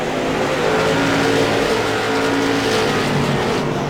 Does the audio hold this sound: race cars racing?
yes